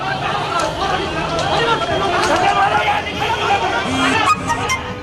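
Crowd uproar during a clash at a polling site in Amroha, a loud, continuous babble of many shouting voices with a few sharper knocks, close and unbroken.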